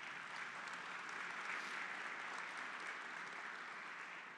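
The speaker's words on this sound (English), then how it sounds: "So please give them a round of applause." A round of applause from guests at the opening reception of a rare and iconic artifacts gallery, a soft, even patter of clapping at a distance that holds steady throughout.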